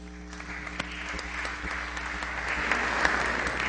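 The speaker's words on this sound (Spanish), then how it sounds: "Un aplauso, por favor." An audience at an inter-American conference of legislative presidents breaks into applause, starting moderate and building to fuller, denser clapping near the end over a low steady hum from the hall.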